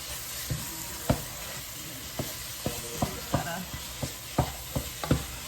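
Ground beef frying in a pan over medium-high heat for Chilean empanadas, a continuous close sizzle with repeated scraping knocks as the meat is broken apart and stirred, no talking.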